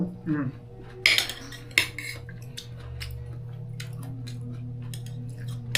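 Cutlery scraping and clinking on plates during a meal of chicken with bitter melon (ampalaya), with a few sharp taps early and light chewing and utensil sounds over a steady low background hum.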